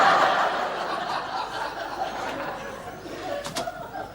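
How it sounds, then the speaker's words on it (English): Birds singing beside a flowing river on an early morning, a soft bright chirping scattered through a steady background wash, with a couple of sharper calls near the end. "The river's flowing, birds are singing"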